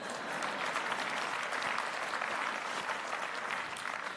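An audience applauds steadily at a city's State of the City address, a dense, even wash of many hands clapping together, fairly loud and sustained throughout without a break.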